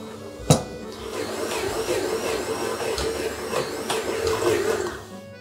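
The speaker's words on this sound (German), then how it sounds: "Küchenmaschine schließen, auf kleiner Stufe starten und den Teig dann auf höherer Stufe schön kneten für 10 bis 15 Minuten." A stand mixer kneads vegan Swiss August 1st bread dough on a higher speed, a steady mechanical whir and churning that runs throughout, with a sharp knock near the start.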